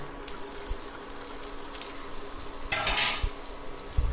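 Garlic frying in hot oil in a pan gives a quiet, low sizzle that flares into a brief, louder hiss about three seconds in, with faint clinks of a utensil around it.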